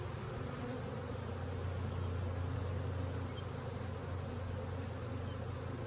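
A steady, dense hum of honeybees fills an open hive that is preparing to swarm, with drone brood on the frames, buzzing continuously and close by with no voices.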